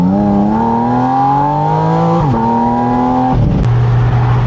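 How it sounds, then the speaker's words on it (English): A Porsche 718 Spyder RS engine revs hard at full tilt, its loud, rising howl climbing in pitch through the gears with brief dips at each shift, close and dominant throughout. "the engine itself at full tilt changes the whole character"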